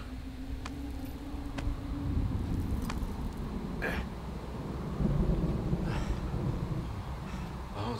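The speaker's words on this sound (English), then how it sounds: "Oh, that storm has really come in." Thunderstorm rolling in outdoors near a cave, a steady broadband wash of rain and wind with low rumbling swells of thunder and a few faint sharp crackles, continuous and moderately loud throughout.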